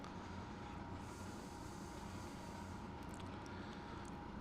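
A train in the Trainz railway simulator rolls through farmland in New South Wales, a steady, soft rumble of wheels and engine with a faint hum, continuous and unchanging throughout.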